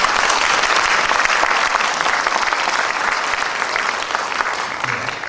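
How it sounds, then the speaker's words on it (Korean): Loud, sustained applause from an audience at a graduate school of education alumni gathering, steady clapping throughout that tapers slightly toward the end, with no voices over it. "격려의 박수 보내주십시오."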